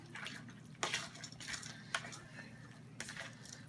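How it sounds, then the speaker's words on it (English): Venison shoulder being stirred with gravy in a pot, soft wet sloshing and scraping with a few clinks of utensil against metal, quiet and close. "we just take and mix this all up"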